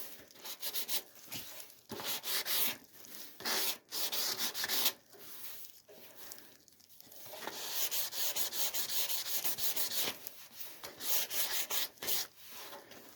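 Light hand sanding across the painted engine bay of a Ford Escort MK1, close rasping strokes in irregular bursts with short pauses, then a longer steady scuffing run, no voices.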